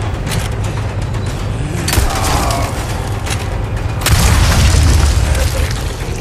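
Bomb blasts in Resident Evil 4 Separate Ways boom loud and close, with rumbling surges at about two and four seconds over constant dense noise.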